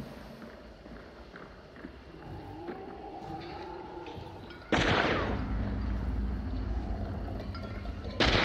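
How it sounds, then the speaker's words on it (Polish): Two loud, sharp gunshots crack out in the video game Hunt: Showdown, the first midway through and the second near the end, after quieter footsteps and ambient movement. "Tu strzał poleciał."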